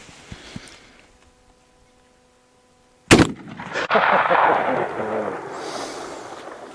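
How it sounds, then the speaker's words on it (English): One sharp, loud crack from a second-model Winchester 1895 pistol-grip lever-action rifle fired at a jug outdoors, followed by a rolling rumble and rustling noise after a quiet stretch. "better shoot one more jug just to say we did"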